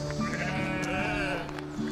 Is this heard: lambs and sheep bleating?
yes